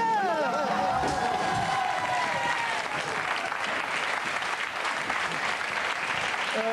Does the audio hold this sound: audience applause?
yes